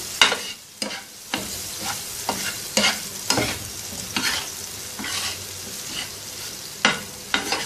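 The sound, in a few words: mixing tawa kaleji with salt and lemon juice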